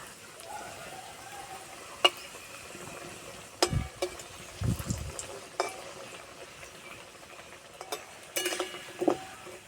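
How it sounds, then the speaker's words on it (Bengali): Potato patties fry gently over low heat in a pan, a quiet soft sizzle broken by several clacks and scrapes as the spatula turns them. "উল্টে উল্টে পাল্টে খুব ভালো করে ভেজে নিয়েছি"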